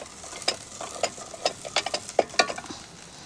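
Masala with fresh coriander sautéed in a pan: a spoon scrapes and stirs in a string of sharp, close scuffs and clicks over a faint sizzle, irregular and unhurried.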